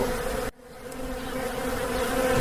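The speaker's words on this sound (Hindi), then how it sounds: "उस पर सारी मधुमक्खियाँ चिपक गई" A swarm of bees hums in a steady, continuous drone, briefly cut off by a short gap before the buzzing swells back in and holds, fairly close and alone.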